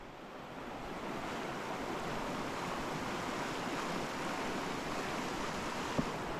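Strong river current rushing past in a steady, loud broadband roar with no let-up, a single brief knock near the end.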